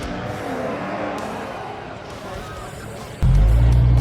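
Two V8 race cars, a Ford Mustang and a Holden, roar past together in a loud, dense wash of engine noise and crowd ambience that jumps sharply louder and deeper near the end.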